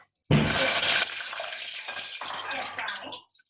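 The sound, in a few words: squid pieces frying and popping in hot oil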